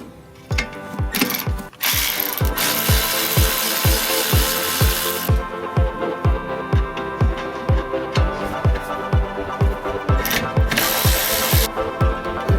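Ratchet turning a Torx T7 bit on a brake caliper during a rear brake squeal repair, a quick steady run of loud close clicks repeating through the whole stretch.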